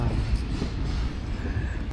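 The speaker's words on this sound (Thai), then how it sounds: "มาถึงปุ๊บ ก็จะเจอรถไฟขบวนนี้พอดีเลยครับทุกคน" A train carrying oil passes close by near the Khun Tan railway tunnel in Lamphun, Thailand, a continuous heavy rumble and rattle of cars that stays loud through the brief moment.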